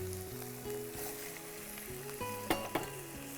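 Eggplant and dried fish sizzle steadily in a pan as they are sautéed and stirred, a soft continuous frying hiss with a couple of sharper scraping clicks near the end, no voices.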